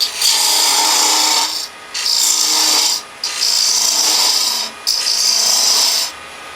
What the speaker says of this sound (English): Then I'll go back to the detail gouge and just start cutting that lid down to size.